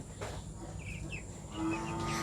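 Broiler chickens in a small makeshift coop built in a woodshed give a few soft, brief clucks and chirps, faint over a steady background hum.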